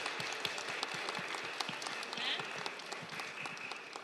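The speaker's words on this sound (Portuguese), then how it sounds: "eu queria pedir uma salva de palmas à nossa subprefeita" At a public hearing in Ermelino Matarazzo, a crowd applauds the subprefect with soft, somewhat distant clapping in which scattered individual claps stand out over a low, steady background.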